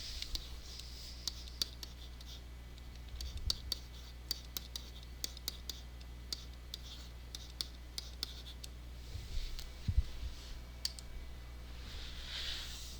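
Pen or marker drawing a number line for a math inequality lesson, scattered sharp scratchy clicks and strokes at irregular intervals over a steady low hum, close and fairly quiet.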